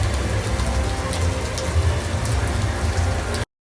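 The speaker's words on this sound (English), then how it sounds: "The rain isn't going to go anywhere anytime soon, and it's on for most of the night as well" Heavy rain hammers down at Universal Orlando, a loud, dense and unbroken roar of drops close by that cuts off abruptly at the end.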